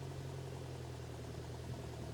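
A tractor engine runs steadily at idle with a low, even rumble and faint vibration as a chisel plough, a three-point linkage implement, is hitched on; no voices.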